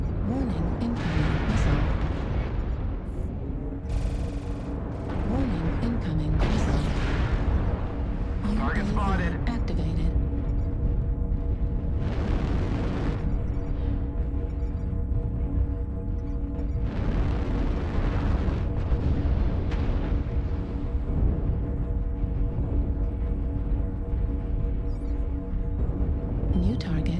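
Explosions from an artillery strike in a video game roll in as deep, heavy booms one after another over a steady rumble, with a synthetic announcer voice speaking over them at times.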